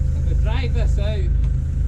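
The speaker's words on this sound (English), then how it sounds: "So I'm just taking the digger round to the other side just to take the pressure off the hole so it can be easily removed." A farm digger is driven around to the other side of a hole, its diesel engine giving a steady, close, low rumble throughout while someone talks over it.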